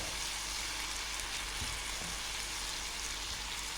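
Tomatoes frying in oil in a pan for a Kabyle pizza, giving a steady, even sizzle with a soft hiss that continues without a break.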